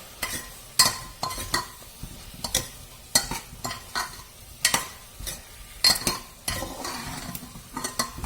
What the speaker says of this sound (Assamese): এতিয়া মই 1 মিনিট সময় ভাজি লম